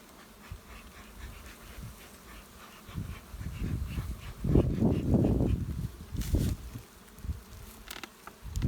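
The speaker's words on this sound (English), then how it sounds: "So now you got to smoke all those bees off the top." Honey bees buzz around an open hive during a hive check, a steady drone of wings close by that swells louder in the middle and then settles, with no one talking.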